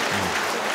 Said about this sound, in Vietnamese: Cho anh một tràng pháo tay đi